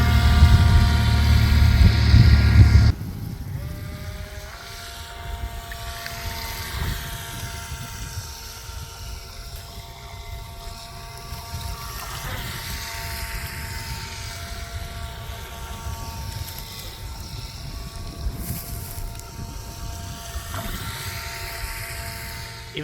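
A radio-controlled boat with a pusher fitted runs on open water near reeds, its motor a steady whining drone at moderate distance. A loud burst at the start gives way to the sustained buzz.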